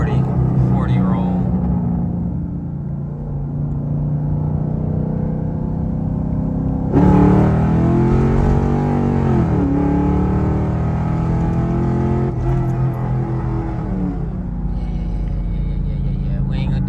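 A Chevrolet Camaro running on E85 fuel pulls hard from a 40 mph roll on a road, its engine rising in a loud, close, sustained rumbling rev, with a voice speaking briefly inside the car.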